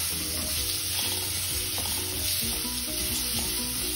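Raw mango pieces dropped into hot frying tempering in a pan for a Karnataka-style mango toor dal, producing a dense, loud, close sizzle with stirring scrapes throughout.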